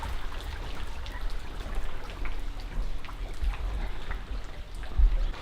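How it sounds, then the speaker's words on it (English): Light rain patters steadily outdoors on a calm day at Misool, a soft continuous wash with scattered drops and occasional louder taps close by, no voices. "It's kind of rainy still."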